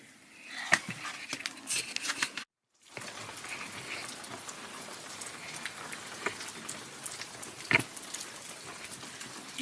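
Rain falls steadily on fresh snow during a rare Atlanta snowfall, a dense close patter of drops with a few sharper splats and one brief drop-out partway through.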